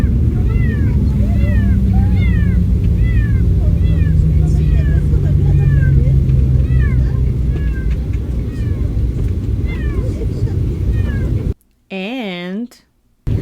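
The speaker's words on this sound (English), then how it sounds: "It sounded like a crying kid first, but then it reminded me of a cat." A cat-like crying noise recurs as a series of rising and falling meows over a steady loud rumble inside an aircraft cabin, followed by a brief clear chime-like tone.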